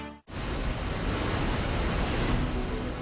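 Niagara Falls pouring water over its crest, a loud, continuous broadband roar that starts abruptly after a short break and holds steady and unbroken.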